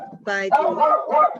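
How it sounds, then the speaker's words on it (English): A neighbour's dog barks close by, with a few quick bow-wow barks followed by a short whine. A person talks over and around the barking. "that's my neighbor's dog"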